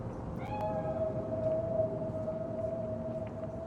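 A cat meows in the video game Cyberpunk 2077, a drawn-out tonal cry held steadily over a dense, rumbling game ambience, fairly close and clear.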